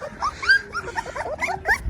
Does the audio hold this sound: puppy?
yes